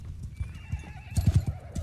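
Cavalry horses in a Bannerlord battle trot with rapid clip-clopping hooves close by, while a horse whinnies in a long high cry over the galloping rhythm.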